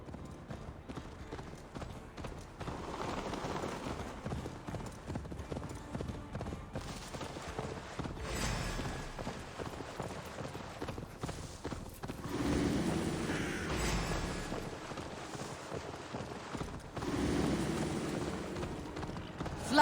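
Horse hooves galloping in Assassin's Creed Valhalla, a steady clip-clop running continuously under game music and battle ambience, with louder surges of activity partway through.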